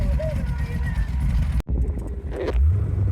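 Car driving slowly in first gear, a low engine rumble with a sudden brief cutout midway before the hum resumes, while people talk over it.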